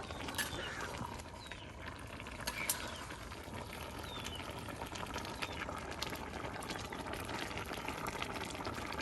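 A village-style pot of gourd and rohu fish curry simmers, a soft, steady bubbling with small irregular pops and clicks, fairly quiet and close.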